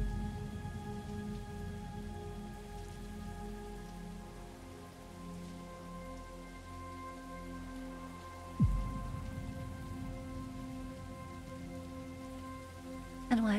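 Rain from the western video game 1873 falls as a steady, even patter across the whole stretch, with faint tonal game ambience beneath and a brief louder thump near the middle and at the end.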